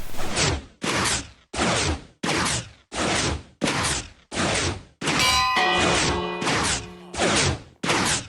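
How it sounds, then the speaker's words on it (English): In Minecraft, a bell is struck about a dozen times at a quick, even pace. Each loud metallic clang cuts off sharply, and a longer ringing tone carries through the middle strikes. "if I ring the bell"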